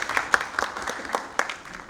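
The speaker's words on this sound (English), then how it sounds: "Give Rashmi a round of applause." Audience applause at a sales summit, a short burst of scattered clapping from a crowd lasting under two seconds.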